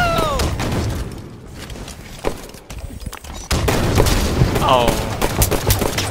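Grenade blasts and gunfire from the Halo video game, in a Slayer playlist match, a thud and rattling shots under game effects and excited voices talking over the action.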